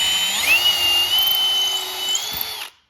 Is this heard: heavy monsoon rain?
no